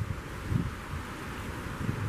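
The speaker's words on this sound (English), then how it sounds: "It's really windy." Strong wind blows through tall, swaying trees in a hunting-season forest, giving a continuous low rumbling buffet with gusty swells and some microphone wind noise, no speech.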